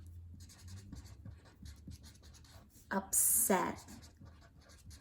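Quick handwriting on a paper Venn diagram, a soft steady scratching with a louder burst of strokes near the end, while a teacher talks over it.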